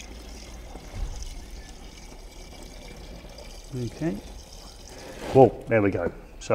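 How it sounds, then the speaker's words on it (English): Water pours and trickles out of an electrical conduit while wire is pulled through with Yellow 77 lube, a steady low wash with brief louder gushes toward the end, as people talk over it. "that is a considerable amount of water in there"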